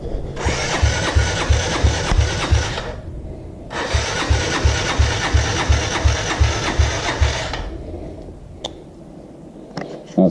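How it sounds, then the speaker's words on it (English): A kid's small motorbike engine, electric starter turned with a key, cranks in two long, close, rhythmic chugging bursts separated by a short pause, then falls quiet with a few faint clicks. "Now, turn the key on and try and start it again."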